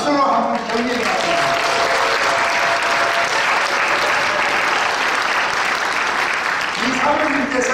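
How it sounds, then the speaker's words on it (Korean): A church congregation at a pastor's inauguration thanksgiving service breaks into loud, continuous applause, a dense steady clapping that fills the room, with a voice speaking briefly at the start and end. "저를 보시고 박수로 한번 경례합니다"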